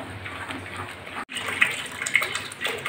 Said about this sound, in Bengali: জলটা দিয়ে দিচ্ছি,